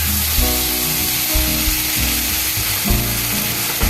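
Gravy poured into a hot pan for an old-style Bengali fish-in-milk dish sizzles and fries loudly and steadily, with low bubbling and scraping pulses underneath, close up and with no talking.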